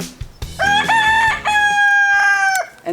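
A chicken in a garden lets out loud, close, drawn-out squawking cackles, a couple of harsh rising calls in quick succession.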